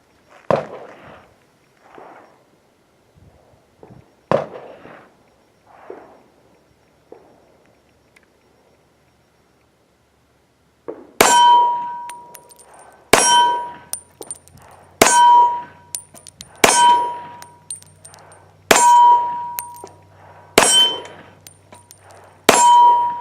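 An EAA Witness Elite Limited pistol in .38 Super fires at steel targets on a range: softer early shots, then about seven sharp reports spaced roughly two seconds apart, each followed by a bright ringing metallic clang.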